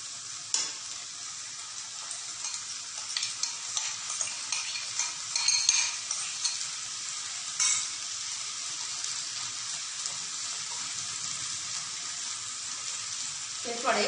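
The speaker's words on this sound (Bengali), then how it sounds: "এরপরে চাল আর ডালটাই মশলার সাথে ভালো করে মাখিয়ে দেব।" Soaked moong dal and rice frying with spices for khichuri, stirred in a pan: steady sizzling with repeated scraping and clinking stirs, fairly close and continuous throughout.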